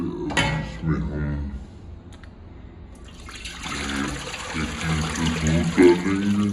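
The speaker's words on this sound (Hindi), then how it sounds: "1 लीटर दूध डालेंगे।" Milk pouring into a cooking pot for white mutton biryani, a liquid gush and trickle that swells in the second half, with a person talking over it early on.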